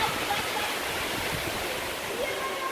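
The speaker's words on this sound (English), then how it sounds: "Wow, what a waterfall." Steady broadband rush of a waterfall heard up close on a hiking trail, a constant roaring hiss with no breaks.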